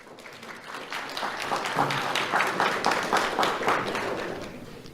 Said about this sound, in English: Let's have a round of applause for Olivia Rill.